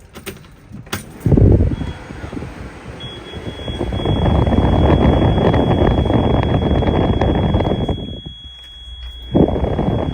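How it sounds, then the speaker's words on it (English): A steady high-pitched air pressure warning alarm holds on, signalling near-empty air tanks, under a loud diesel pusher RV engine starting and rumbling, with a few clanks and knocks nearby. "That alarm going off is basically just"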